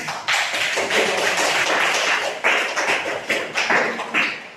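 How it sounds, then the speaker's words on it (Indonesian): Students in a classroom give a sustained round of applause, dense and continuous clapping from a group, with a few louder bursts near the end. "kita kasih tepuk tangan"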